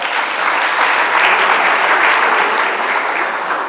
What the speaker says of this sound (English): I think a big round of applause for that.